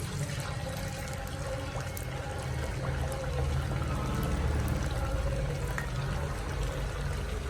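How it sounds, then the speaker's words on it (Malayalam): Pathiri dropped into hot, boiling oil to fry, giving a steady, dense hiss and bubbling that runs unbroken at close range, with no voices. "നല്ല തിളച്ച എണ്ണയിൽ ഇടണം"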